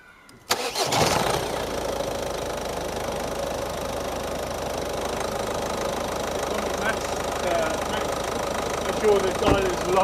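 A car engine starts with a quick crank and catches, then runs at a steady idle close by, with a light knocking rhythm and a thump near the end.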